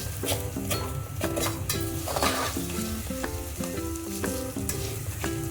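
Potatoes fry crisp in a pan on high heat, a dense loud sizzle broken by repeated clinks and scrapes of a spatula stirring against the metal, no voices heard.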